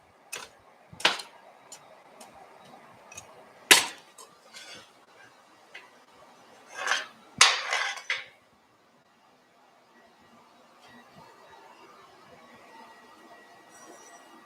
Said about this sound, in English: And then I can forge the chisel.